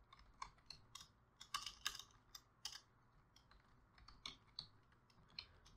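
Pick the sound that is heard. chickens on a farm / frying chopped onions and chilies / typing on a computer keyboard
typing on a computer keyboard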